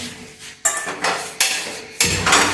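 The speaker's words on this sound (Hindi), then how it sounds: "अब ये थोड़ी सी मेथी और भून लेते हैं।" Fenugreek leaves are roasted in a pan and stirred with a utensil, giving a few loud scraping, clattering strokes against the metal at close range. A faint sizzle sits underneath and no one speaks.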